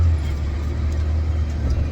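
A truck engine idles at a work site, a loud steady low rumble with no breaks, running close by throughout.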